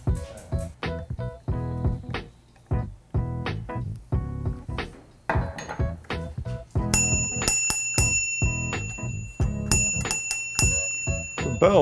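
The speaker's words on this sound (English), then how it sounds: "Bell that says hello." Bicycle bell on a newly built bike, struck in quick repeated dings, close and bright, with a few faster flurries of ringing, no talking.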